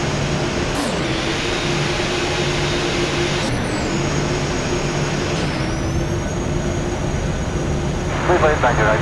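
Airliner jet engines in a flight simulator spool up to takeoff thrust on the runway, a steady loud whining roar with tones that rise in distinct steps as the power builds.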